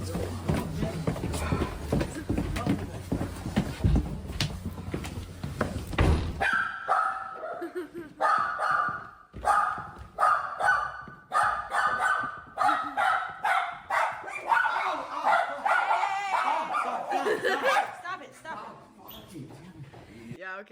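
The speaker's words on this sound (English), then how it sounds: "That's the same dog." A dog barks repeatedly in sharp, uneven bursts close by, following a stretch of loud, busy noise with voices, and the barking continues steadily to the end of the clip.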